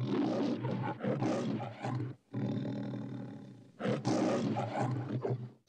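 MGM logo lion roars, two long, loud growling roars separated by a brief pause, deep and raspy with a throaty texture, alone without talk.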